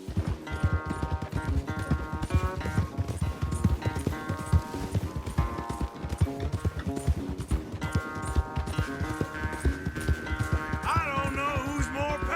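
Horse galloping in the Red Dead Redemption 2 video game, a loud, fast, continuous drumming of hooves under a swelling musical score, with no speech.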